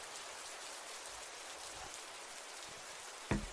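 Steady, even rain hiss plays as an ambient backdrop, a soft continuous patter with no other sounds until a single brief thump near the end.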